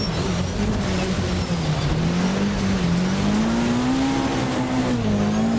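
Peugeot 306 Maxi Kit Car engine in the Richard Burns Rally video game, a loud continuous rasp from a rally car whose pitch rises and falls as it accelerates, with faint tire noise and no voices.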